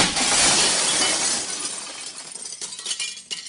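A glass desk shatters and bursts apart in a quiet office at night, with a loud crashing burst at the start that fades into scattered tinkling fragments and clinks.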